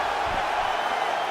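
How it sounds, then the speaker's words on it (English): A dense, continuous crowd roar fills the arena of a UFC 5 fight, a steady wash of many voices with no distinct claps or cheers standing out. "the crowd continues to react"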